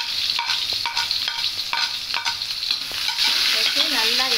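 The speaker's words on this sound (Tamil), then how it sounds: "வச்சு நல்லா எண்ணெயில் வதக்குங்க கொஞ்சம் நேரம்." Onion frying in oil in a pan for a veg chicken dalcha, with a steady sizzle and repeated scraping stirs of a spoon across the pan, close and continuous with no talk.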